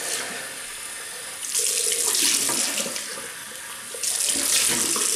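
Tap water runs steadily into a sink, with the splashing getting louder in two bursts as something is rinsed under the stream.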